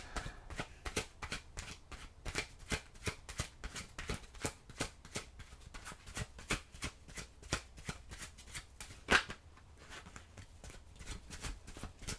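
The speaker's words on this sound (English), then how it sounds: "See if I can hold on to these cards here" Tarot cards being shuffled by hand in a rapid, steady riffle of crisp slaps and flutters that runs nearly the whole time, close and fairly loud, with a sharper snap near the end and no talking.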